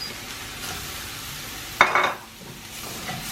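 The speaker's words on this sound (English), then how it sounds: "I'm going to turn the fire down a little and add back into the wok the stir fry vegetables" Stir-fry vegetables tossed back into a hot wok with cooked shrimp, a sudden loud burst of sizzling and clattering near the middle that fades back to a low steady hiss.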